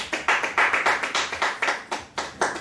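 Rhythmic group clapping in acclamation during a wedding ceremony, about a dozen sharp, close claps in a steady beat over a couple of seconds, with no voices on top.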